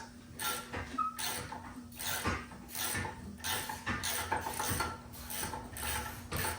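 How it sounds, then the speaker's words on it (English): A Craftsman ratchet clicks rapidly in repeated bursts while turning brake bolts on a 2010-2016 Cadillac SRX 3.0L during a front brake pad and rotor job, close and loud with short pauses between strokes. "We'll switch on over to the Craftsman ratchet, my least favorite ratchet."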